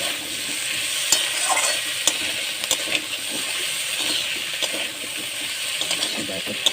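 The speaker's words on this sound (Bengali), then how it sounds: "আমি এইভাবে বেগুনকে একটু কষিয়ে নিলাম" Brinjal sautéing in very little oil, a steady bright sizzle close by with repeated sharp scrapes and taps of a spatula as the pieces are stirred.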